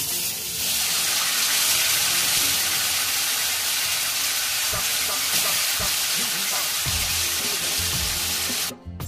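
Kachu leaf paste dropped into hot oil tempered with black cumin, a loud, steady hissing sizzle with a few scrapes and bubbling pops toward the end, close by.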